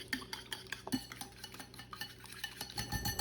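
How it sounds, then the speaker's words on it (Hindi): A spoon stirs salt, chilli, pepper and cumin seasoning into a mixture in a bowl for Arabic paratha filling, making soft repeated clinks and scrapes, close and fairly quiet, with no talk. "तमाम चीज़ें डाल के मिक्स करेंगे"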